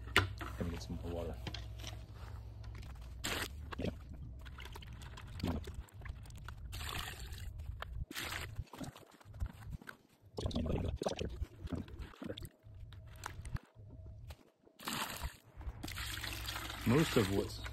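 Water is poured and trickles during gold recovery from a kilogram of flatpack computer chips, with intermittent splashing and sloshing heard close up between stretches of speech.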